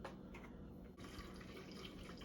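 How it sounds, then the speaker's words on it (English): A gallon of water pours steadily into a vessel holding honey for a blueberry mead, a continuous close splashing fill with a brief break partway through. "Now I'm going to add my gallon of water"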